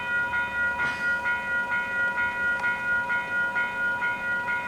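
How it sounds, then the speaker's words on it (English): Train approaching the Blenheim Street level crossing in Upper Hutt, its rumble rising under the crossing's chiming bells, which ring in a regular repeating pattern. A brief whoosh passes early on. "Here comes our train."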